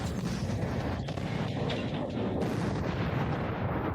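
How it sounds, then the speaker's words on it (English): Shots from a D-30 howitzer boom across a battlefield. The rumbling blasts and rolling echoes fill the air with dense, steady low-end noise and no talk. "The D-30 cannons are firing directly at the UAV control points, up to 15 kilometers away."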